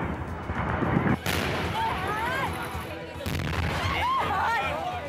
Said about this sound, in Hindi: सिलेंडर के धमाकों की आवाज दूर दूर तक सुनाई दे रही थी